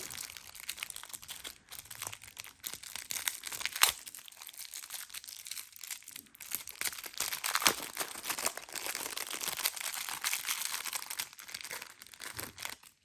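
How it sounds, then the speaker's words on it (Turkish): Crinkling and crumpling of plastic wrapping as a LOL Surprise doll egg is unwrapped, a steady busy rustle of fairly close foil and packaging with a few sharper tears and crunches, no talking. "İlk lol sürpriz yumurtamızı açıyorum ve sanırım yine oyun çıktı."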